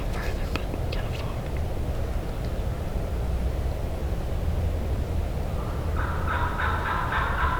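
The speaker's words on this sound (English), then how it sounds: "There's a turkey gobbling back off in the woods, away from the flock." A wild turkey gobbles far back in the woods away from its flock, faint rattling calls early on and again near the end over steady outdoor wind noise during a turkey hunt.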